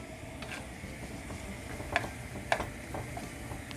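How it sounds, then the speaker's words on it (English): Onions sauté in a pan for pork adobo, a low steady sizzle close by, with a couple of sharp clicks of a spoon against the pan. No one speaks. "you're gonna want to saute the onions till they're sort of see-through."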